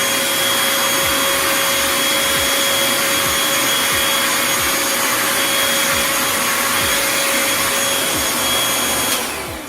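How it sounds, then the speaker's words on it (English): A Bissell Featherweight stick vacuum runs steadily in handheld mode, its loud, constant motor whine and airflow rush holding for nearly ten seconds before cutting off abruptly at the very end. "So I'm gonna turn on the vacuum cleaner again."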